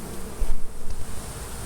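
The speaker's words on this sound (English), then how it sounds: "There's a thick frame of bees" Honeybees swarm and drone inside an opened hive box crowded with bees, a dense, close buzzing hum that wavers slightly in loudness, with no voices over it.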